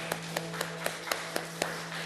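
A congregation at a Sunday church service claps in rhythm, seven or eight evenly spaced sharp claps over a steady low hum, with no talking.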